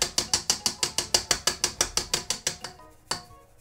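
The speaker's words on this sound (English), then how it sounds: "And then we'll just sift this in." A crank flour sifter sifts flour over a bowl of cookie ingredients, giving a fast, regular series of sharp ratcheting clicks, about five per second, close and crisp, before it slows and stops with one last click.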